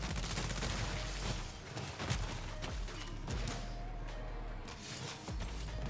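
ISO 45 gunfire in the video game MW3 Zombies, fighting zombies in tier 3: sharp, rapid shots in bursts over a dense, loud game soundscape with low rumbling effects.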